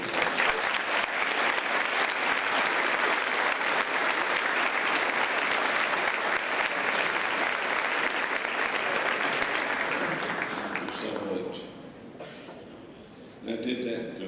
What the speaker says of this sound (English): Let's give these a round of applause.